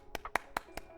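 Five sharp, evenly spaced claps from a single pair of hands, close and distinct, with brief silence between each one.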